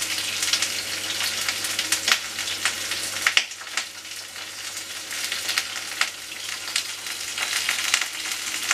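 Vegetables fry in a pan with a steady close crackle and sizzle, speckled with small pops and stirring clatters, alone and without talk.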